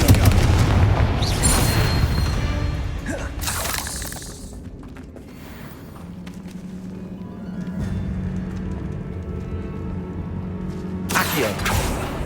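Confringo blasting spells going off in the Hogwarts Legacy video game, several loud bursts and booms spread across the stretch, with a low humming lull in between and a final sharp blast near the end.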